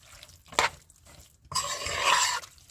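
A spoon stirs tomato sauce in a pot while home-cooking dinner, giving two short scraping bursts, the second longer and broader, close and fairly loud with no talking.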